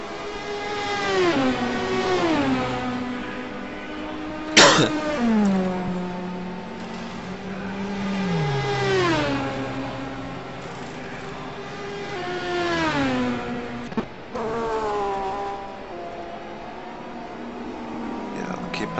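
Race cars roar past one after another at the 12 Hours of Sebring, a 2012 SRO Le Mans Series endurance round with GT cars and a Porsche. Engine notes rise and fall in Doppler sweeps under continuous commentary.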